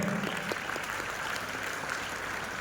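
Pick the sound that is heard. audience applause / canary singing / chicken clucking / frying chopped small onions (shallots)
audience applause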